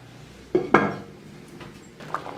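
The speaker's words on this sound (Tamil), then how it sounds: "நம்ம மூடி போட்டு மூடிடலாம்." A lid is set onto a pot of drumstick sambar with two quick metallic clanks close together, followed by a softer clink a moment later, then quiet.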